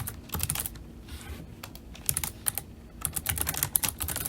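A name being typed on a computer keyboard: close, crisp keystrokes come in quick bursts separated by short pauses, with no talking.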